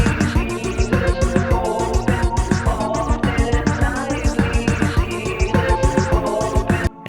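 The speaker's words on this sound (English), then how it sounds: "Another set of bounce down vocals that I have going through a phaser and a multiband compressor" Bounced-down vocal layers processed through a phaser and a multiband compressor, sitting in a dense, loud mix with a steady pulsing rhythmic pattern, hard-hitting beats roughly every half second and a brief dropout at the very end.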